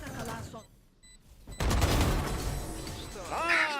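Bulldog rifle fire in a Valorant esports match, a sharp burst of gunfire erupting after a brief lull, loud and dense, with commentators talking over it.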